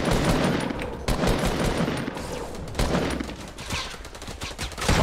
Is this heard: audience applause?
no